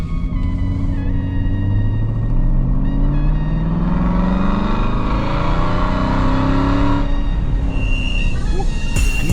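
An Aston Martin engine revs hard and pulls through rising gears, a loud close-up roar sweeping upward in pitch over about seven seconds before easing off, with wind and road rumble throughout.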